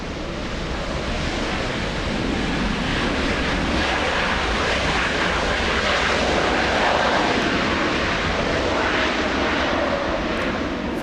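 Delta airliner inbound from Honolulu landing at LAX, a broad, continuous jet roar that holds steady for the whole stretch, with wind-like rushing noise mixed in.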